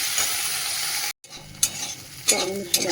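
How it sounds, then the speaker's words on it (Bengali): Onion and chili sizzle steadily in hot oil in a pan, with spatula stirs and light scraping clanks. The sizzle cuts out briefly, then resumes with sharper stirring knocks. "ঝালাঝালি ভাজাটা হোক ততক্ষণ"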